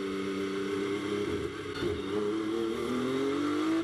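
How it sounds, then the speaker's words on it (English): Race car accelerating away under green at the 2024 Spa 24 Hours, a sustained engine note rising steadily in pitch as it pulls off into the distance, steady and moderately loud. "the number 998 car drives off into the distance, firmly in the lead of the race"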